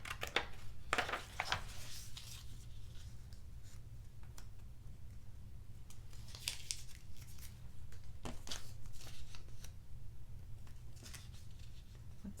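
Scissors snipping paper for a collage, a run of close, crisp cuts and rustles at low level, with short bursts separated by quieter pauses and no talking.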